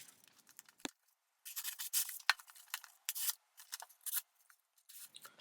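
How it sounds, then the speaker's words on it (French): A sharp knife blade slices through a stack of about ten paper sheets, giving a series of brief, crisp rasping cuts with short pauses between them, fairly quiet and close, with no voices. "Premièrement le test habituel qui consiste à couper les feuilles, pour voir si la lame est bien aiguisée"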